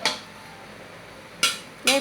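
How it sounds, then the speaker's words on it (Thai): Metal utensil scraping and clanking against a wok while pumpkin is stir-fried, two sharp clatters after a quieter stretch of faint kitchen noise. "มาดูพี่นกันผัดฟักทอง"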